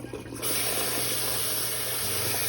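Cold tap water pours steadily over cooked spaghetti pasta as it is rinsed, a loud, continuous rushing splash that starts abruptly after a brief quiet moment and runs on without pause.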